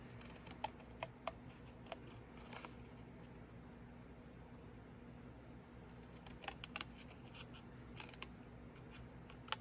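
Paper trimmed with scissors for a stamping craft project: faint, sparse crisp snips and clicks over a quiet room hum, clustered near the start and again toward the end.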